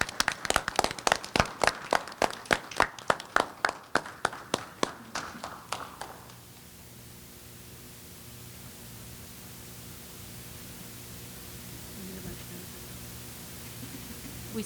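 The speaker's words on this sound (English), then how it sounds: "everyone to give Officer Bryant a round of applause for everything you do for us" Applause at a town meeting in honor of a police officer, clapping loud and fast for about six seconds before stopping abruptly, leaving a low room hum.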